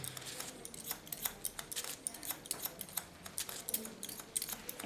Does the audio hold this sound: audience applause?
no